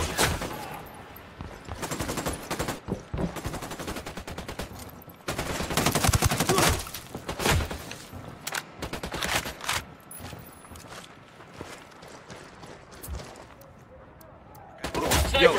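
Squad gunfire in the video game Spec Ops, in a Bolivia mission, comes as repeated sharp volleys and rapid bursts at moderate loudness, separated by brief lulls, with voices talking between shots.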